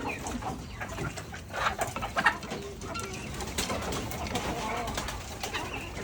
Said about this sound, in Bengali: এই যে কবুতরে খাবার দিছিলাম,